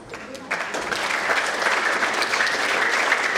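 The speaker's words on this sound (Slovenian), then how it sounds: "En velik aplavz" Audience at a Slovenian youth awards ceremony in Slovenske Konjice gives primary school pupils a warm round of applause, starting suddenly and building into steady, dense clapping that holds loud to the end.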